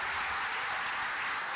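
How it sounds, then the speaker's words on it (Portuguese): Applause from an audience at an event, a dense, steady wash of clapping throughout, fairly loud and without voices. "salva de palmas"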